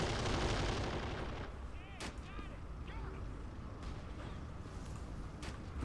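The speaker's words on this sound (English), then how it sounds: "There's this one guy manning this explosive turret" Explosive anti-vehicle turret fire in the video game Apocalypse 2066 booms repeatedly and loudly over a dense battlefield din, with faint voices briefly audible.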